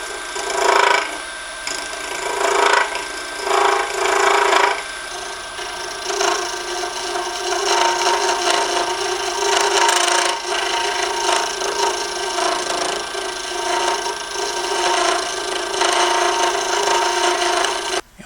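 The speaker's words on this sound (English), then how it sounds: "So a scraper comes right in there, just to smooth out there." A scraper held against a wooden tool handle spinning on a lathe gives a continuous rasping scrape, close and fairly loud, rising and easing in bursts as the tool is pressed and lifted.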